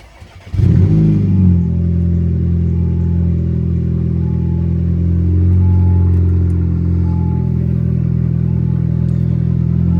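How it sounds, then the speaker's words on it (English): An Audi A4 engine cold-starts with a brief cranking burst, then settles into a loud, steady, low idle rumble that continues close to the car with no talk. "But let's get a cold start."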